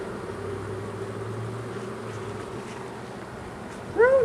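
A honeybee drone buzzes close around a beekeeper during a hive inspection, a steady droning hum over low background noise, ending with a brief loud sound.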